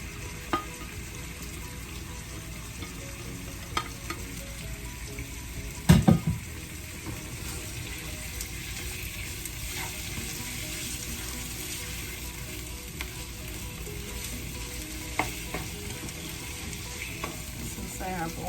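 Chow mein ingredients and seasoning fry in a pan with a steady, dense sizzle, broken by a short burst of louder clatter and stirring partway through and a few scattered clicks.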